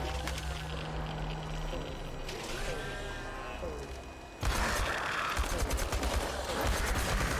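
Gunfire in the video game Chernobylite: rapid bursts of shots and heavy blasts, growing louder and denser in the second half, with a voice speaking over the action.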